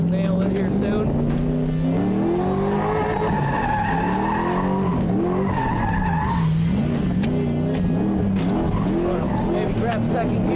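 A drift car's engine revs and climbs after being shifted into gear, loud and close, with tire noise and a voice talking over it.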